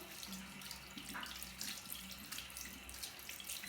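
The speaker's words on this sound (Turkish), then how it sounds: "Bu minnak ayağımızda yıkayalım." Tap water runs into a sink while feet are washed, a steady faint splashing stream with light shifts in the flow and no voices.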